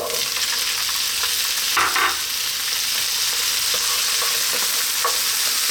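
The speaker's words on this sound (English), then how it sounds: "We're now going to drop in that can of chickpeas." Onions frying in a pan sizzle steadily with canned chickpeas dropped in and stirred, a continuous loud hiss with a few brief clatters of stirring, no voice.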